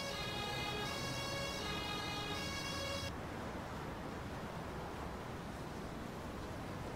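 An emergency vehicle's siren wails in the Emergency 5 video game, a faint, tonal electronic whine for about three seconds before it cuts off, leaving a dull background hiss.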